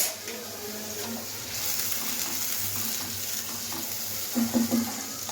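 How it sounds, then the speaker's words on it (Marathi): A ground paste of tomato, onion, garlic and ginger hits a hot pan with a broad, hissing sizzle that swells and then settles into steady crackling, close by, with a brief voice underneath. "आता हा वाटण केलेली पेस्ट टाकूया"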